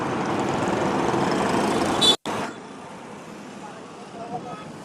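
Outdoor road traffic rumbles steadily, heard through a Hollyland Lark M1 wireless mic with noise cancellation, loud at first, then cutting out briefly and returning as a lower, subdued hum.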